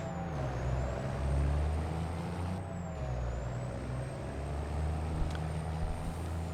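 A semi truck in a Farming Simulator game idles with a low, steady diesel drone while an air brake hisses, and a faint high electronic tone glides across the top, no voices.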